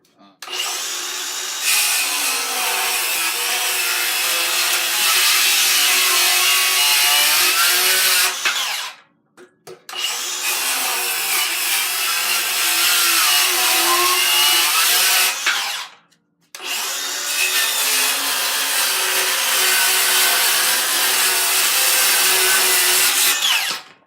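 A Milwaukee M18 Fuel 7 1/4 inch cordless circular saw cuts through wood in three loud, sustained passes, each a steady high whine broken by short silent pauses between cuts.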